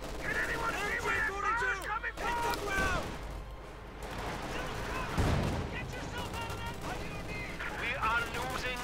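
Battle gunfire in the real-time strategy game Company of Heroes 2, with scattered rifle and machine-gun bursts popping through a busy mix of in-game voices and effects, fighting on a flank, under continuous commentary.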